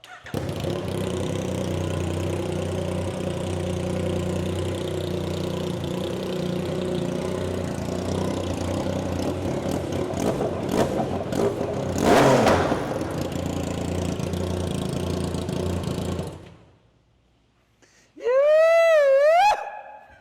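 Streetbike engine swapped into a 4x4 lawn tractor idles steadily and loud with a rough low drone, surges briefly in a rev, then cuts out before a rising-and-falling whine near the end.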